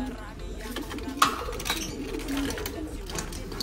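A pigeon that has slipped out of its cage coos softly amid room noise and faint chirps, with people murmuring nearby.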